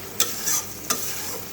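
A spice paste with turmeric and green chilli fries in hot oil with a close, steady sizzle, cut by three quick, sharp spatula scrapes in a brief burst.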